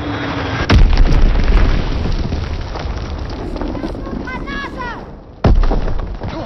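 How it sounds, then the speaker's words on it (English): Video game combat: a Fritz X guided bomb drops and detonates in a sharp, heavy boom, followed moments later by a second blast, with scattered gunfire and radio chatter from game voices between the explosions. "Dropping Fritz X-Bomb."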